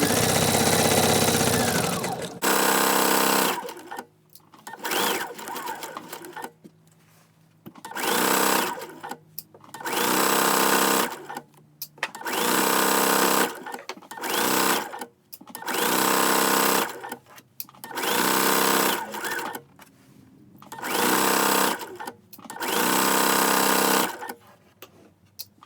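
A sewing machine stitches fabric for a baby burp cloth in loud, close bursts, with a long run at the start followed by repeated short runs and brief stops for pivoting.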